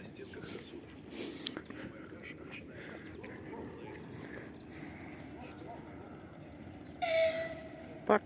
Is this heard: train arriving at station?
yes